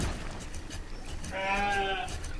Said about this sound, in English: These sheep will not split into other fields.